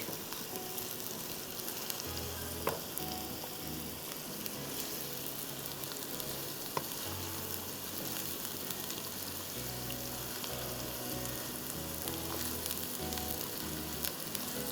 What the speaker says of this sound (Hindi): अच्छी तरह से इसको हमें फ्राई करना है।